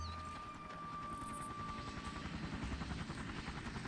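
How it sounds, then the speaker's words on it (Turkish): A helicopter in the first-person shooter Far Cry drones steadily with a fast rotor chop, holding loud and close for the whole stretch with no talk over it. "Helikopter geliyor kaç"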